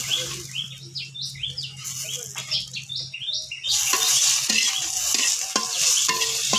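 Green and dried chilies are fried in a pan for eggplant bharta, a loud, crackling sizzle that bursts in partway through and holds steady with stirring scrapes, after a quieter stretch with faint birdsong in the background.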